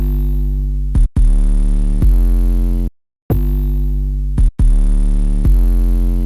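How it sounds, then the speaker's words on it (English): A punchy, bassy 808 bass from an FL Studio jazz-style beat plays alone, four deep sustained notes hitting with sharp attacks, separated by brief gaps and one short silence. "we are going to follow it up with a second 808, which is like really punchy and more bassy"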